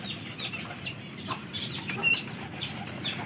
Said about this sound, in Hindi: ये चूज़ा है